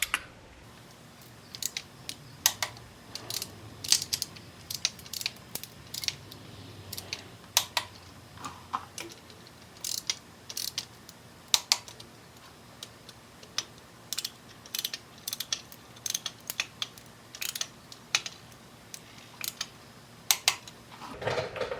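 A torque wrench ratchets 15 mm bolts on a transmission adapter plate, a close series of quick clicking bursts repeating throughout, with short pauses between bolts and no talking.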